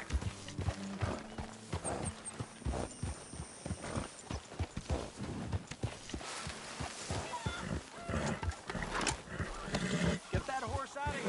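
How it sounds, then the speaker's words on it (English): Horse hooves clip-clop in Red Dead Redemption 2, a rhythmic run of hoofbeats mixed with game music, animal calls and character dialogue throughout. "Get that horse out of here."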